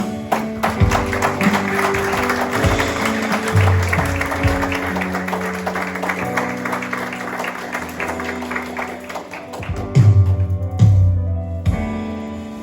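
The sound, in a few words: church congregation applauding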